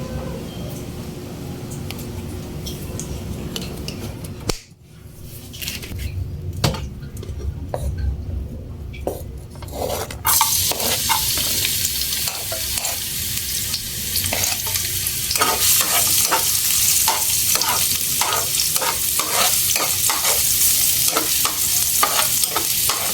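Garlic sizzles in hot oil in a pan for chicken pastil while a utensil stirs it, giving a steady close frying hiss with repeated scraping strokes. A sharp break near the start gives way to louder, brighter sizzling.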